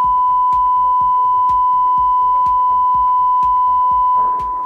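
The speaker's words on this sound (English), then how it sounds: "1000 Hertz." Steady 1000 Hz test tone driven through a QSC USA 1300 power amplifier, a loud continuous pure whine holding unchanged for several seconds, with a regular low ticking pulse beneath it and no voices.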